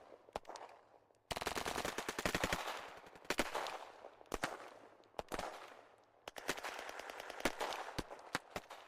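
Combat footage of Ukrainian soldiers firing from and around a bunker as Russian troops assault it, with bursts of automatic rifle fire and single shots, fairly distant and muffled.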